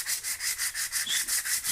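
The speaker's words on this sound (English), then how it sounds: "start sanding, get it smooth." Rhythmic coarse sanding with 80 grit sandpaper on a steering wheel, about eight even back-and-forth strokes in quick succession, close and fairly loud with no talking.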